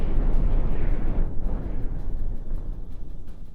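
Pure HE cannon shells burst in the naval combat game From the Depths, a dense roaring wall of explosions with heavy low rumble that swells early and then rolls on more softly, no voices.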